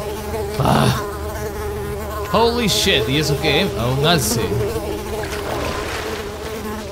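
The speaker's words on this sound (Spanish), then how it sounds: "No, men, más mosquitos, men, qué asco." Mosquitoes buzzing in the video game Unravel, a loud insect drone running steadily underneath someone talking excitedly over it.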